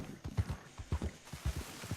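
Horse hooves clip-clop at a steady walking rhythm in Red Dead Redemption II online, the slow game horse plodding through the town of Armadillo, close and clear with no talk over it.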